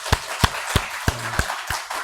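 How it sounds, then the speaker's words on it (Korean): A few people in a church congregation clapping, slow, spaced claps roughly every third of a second, near and fairly sparse, with a brief low hum under one of them and no voices. "하나님께 영광의 박수를 드리겠습니다"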